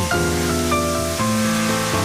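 Loud, continuous rushing of a waterfall on a stream flowing from Lebanon into Israel, steady and unbroken from start to finish, with a faint musical drone beneath it.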